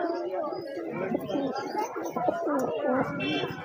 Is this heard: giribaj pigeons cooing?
yes